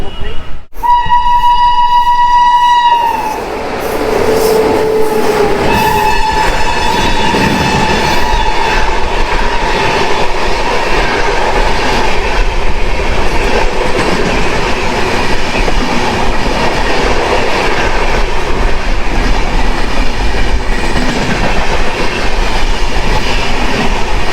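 The Howrah–NJP special train rolls along the rails, its horn sounding loudly at the start, followed by a continuous, steady rumble and rattle of the moving carriages heard from on board.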